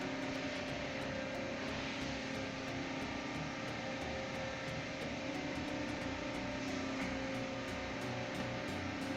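A 30 kW electric motor drives an NK air compressor rated for 30 bar, giving off a steady, loud, continuous hum and whine with a fast regular ticking pulse layered on top, unbroken throughout.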